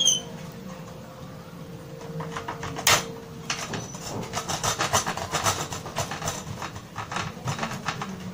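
A bar of Dove soap is rubbed against a grater in repeated rasping scrapes, close and moderately loud against a faint steady background hum.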